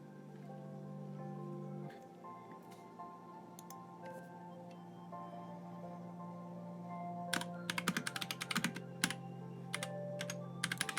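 Quiet typing on a computer keyboard during a live writing session: sparse clicks at first, then a quicker run of keystrokes over a steady low hum.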